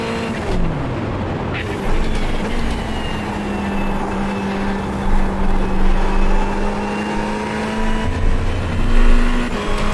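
Ferrari 488 GT3 Evo race car engine in the iRacing sim at Silverstone, loud and continuous, revving up and down through gear changes with a steady high-pitched drone throughout.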